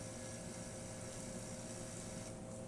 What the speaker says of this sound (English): The autofill will kick in, so you can hear the pump is running.